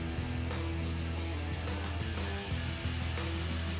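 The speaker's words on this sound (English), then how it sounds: "With a grinder, define the repair area." A grinder works on a mooring buoy to mark out the repair area, a steady close motor whine and abrasive hiss running unbroken through the clip with no voices.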